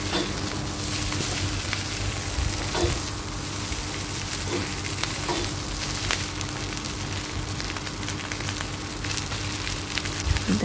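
Shrimp, scrambled egg and rice get stir-fried in a pan, giving a continuous loud sizzle broken by scattered scraping clicks of a utensil tossing the mix, with no voices.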